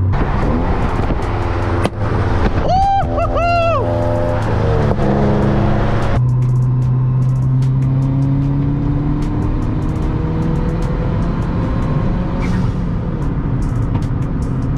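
A Ford Fiesta ST engine revs hard and accelerates, loud and close, with rising, sweeping engine tones early on that give way to a steady, dense roar.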